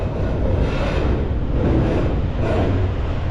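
A train rolls along the Norfolk Southern line beside a riverside greenway in Southern Indiana, giving a steady, loud low rumble with no pauses.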